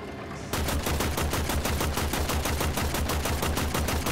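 After a brief quiet moment, loud rapid-fire gunfire from the video game Warframe starts abruptly and keeps going in a fast, regular stream of shots, close and unbroken, with no talking.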